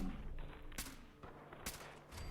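UZK50Gi submachine gun firing in Fallout 4, two short, loud bursts of rapid automatic fire over a low game ambience, with a pause between them.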